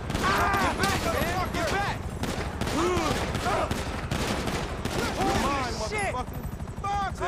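Rapid gunfire from a GTA V gang fight between Ballas and Aztecas, with loud sustained bursts and volleys running throughout under excited shouting voices.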